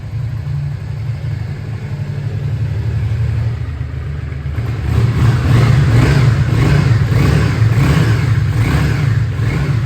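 A Yamaha XV V-twin motorcycle engine rumbles steadily, then rises into louder, throatier revving as the throttle is twisted, staying close and continuous throughout.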